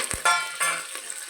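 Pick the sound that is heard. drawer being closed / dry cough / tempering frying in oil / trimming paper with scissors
tempering frying in oil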